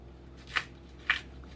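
Green plantain skin pulled away by hand after a light knife score, giving two short, sharp tearing snaps about half a second apart over a quiet background.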